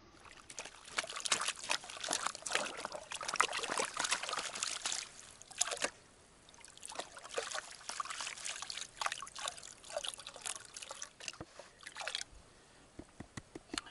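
Water swirling and trickling in a gold pan full of black sand during fast panning, a continuous close sloshing with dribbles and splashes, a few small drips near the end.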